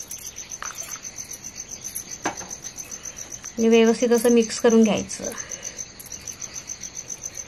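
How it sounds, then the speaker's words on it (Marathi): Crickets chirp steadily through a village night, a dense, pulsing insect trill beneath a voice that speaks briefly partway through. "बाहेर आहे ना रात्रीचा टाइम आहे आणि रातकिडे बघा कसा मस्त आवाज येतोय."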